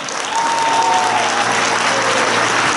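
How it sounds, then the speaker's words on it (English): A loud, dense burst of audience applause welcoming a guest onto the stage at a business showcase in Singapore, rising quickly and holding steady, with a faint whistle and some crowd noise mixed in. "can we put our hands together to welcome my dear friend,"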